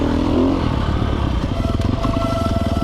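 A 2020 Sherco 300 SEF Factory dirt bike on a trail gives a loud, close engine drone with a rapid rhythmic pulse, plus rattling and clatter from the ride over rough ground.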